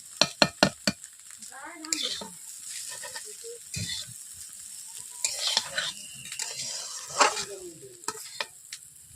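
Egg chowmein sizzles in a hot wok as a utensil scrapes and stirs, with a few sharp metallic clanks at the start followed by steady frying crackle and intermittent scraping strokes.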